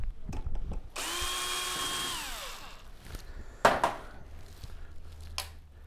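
A power drill removes screws from the back panel of a Sony XBR-75X900F television, a rising whir that holds for about two seconds and winds down, followed by a few sharp clicks and clunks of handling.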